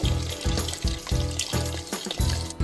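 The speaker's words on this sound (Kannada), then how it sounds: "ಸೊ ನಾನಿವಾಗ ಬಿಸಿ ನೀರು ಆ್ಯಡ್ ಮಾಡ್ತಾಯಿದ್ದೀನಿ" Hot water pours into a pot for chicken biryani in a home kitchen, a steady watery splash that swells and dips in a regular pulsing rhythm, fairly close and continuous.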